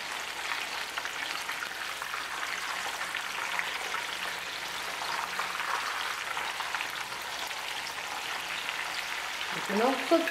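Breaded Italian-style beef cutlets fry in a skillet of oil, giving a steady, close crackling sizzle that holds evenly throughout with no talking.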